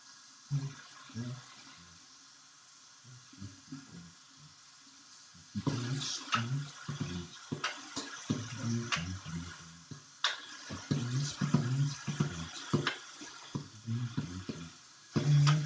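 Hot water running from a bathroom tap before a head shave, a soft hiss that swells louder partway through, with spoken voices and handling noises mixed over it.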